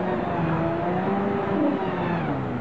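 Motorcycle engines rev continuously in a forest, a steady, loud droning roar with shifting pitch and no speech over it.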